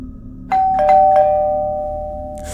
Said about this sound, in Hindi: वो डोरबेल बजाने लगा